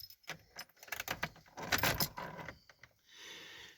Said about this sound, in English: we'll put the keys in the ignition in case we have to tear out of here real quick.